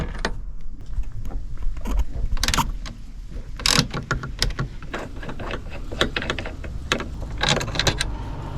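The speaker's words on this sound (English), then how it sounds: "And we undo these rear bolts." Metallic clicks, rattles and scraping of a tool working on rear seat bolts inside a 2008 Smart Fortwo 451, irregular close-up mechanical sounds with no talk.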